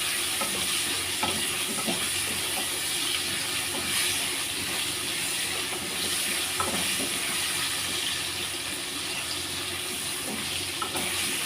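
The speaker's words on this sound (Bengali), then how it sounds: "এবারে দিয়ে আমি একটু নেড়ে নেব আলুটা" Potatoes fry in a pan with turmeric, a steady close sizzle running throughout while a utensil stirs and scrapes with occasional soft knocks, no voices.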